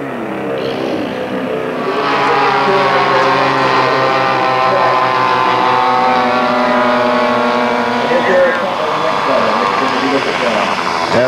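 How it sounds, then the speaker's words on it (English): Model airplane powered by Quadra 52 engines at a 1997 model airplane contest, a loud, continuous buzzing engine drone that swells in as it nears and holds steady, with slight pitch shifts as it passes. "the engines are Quadra 52s"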